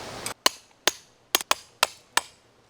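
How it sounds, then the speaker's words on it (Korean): Seven sharp, ringing strikes land at an uneven pace, close by and loud, as a 40 cm tent peg is hammered into the ground at a campsite, with quiet pauses between blows. "메인 폴대는 무조건 40짜리 팩으로 박아주시는 게 좋거든요"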